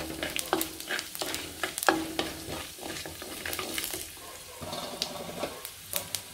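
Mustard seeds, urad dal, chana dal, fenugreek seeds and cumin tempering in hot oil, giving a close crackle and sizzle with scattered pops and stirring clatter throughout, no voices.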